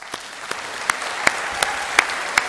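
Applause from a college graduation audience for teachers and support staff at Highbury: a soft bed of clapping punctuated by a few louder, evenly spaced near claps.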